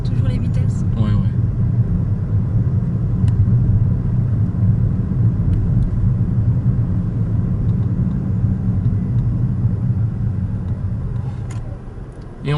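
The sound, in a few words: automatic car driving during a driving lesson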